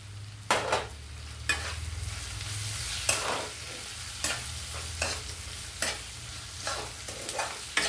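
Tomato pieces sizzle and fry in a pan for a Telugu potlakaya pesarapappu tomato curry, with a steady frying hiss broken by repeated sharp scrapes and clacks of a spoon stirring at uneven intervals, close and clear with no talking.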